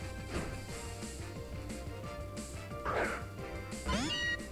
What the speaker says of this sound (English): Meowth.